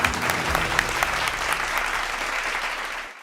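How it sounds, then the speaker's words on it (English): A quiz competition audience claps steadily for a finalist receiving a trophy at a campus quiz zonal final, a dense wash of applause sustained for about three seconds before cutting off. "Can we have a round of applause, ladies and gentlemen?"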